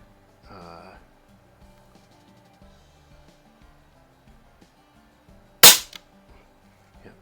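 An Umarex Notos airgun fires once at a target, a single sharp close crack after a quiet stretch with faint background sounds.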